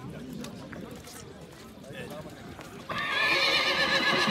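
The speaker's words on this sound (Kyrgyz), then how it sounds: "Жылкы жагын тартып берейин сиздерге." A horse at a livestock market in Pokrovka lets out a loud, close whinny that rings out over the last second and a half, after crowd chatter and hoof clatter.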